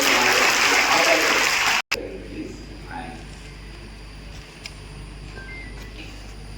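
An audience claps at a coaching centre's toppers' event, with dense applause for about two seconds before cutting off, followed by quieter room sound.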